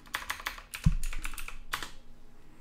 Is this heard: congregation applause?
no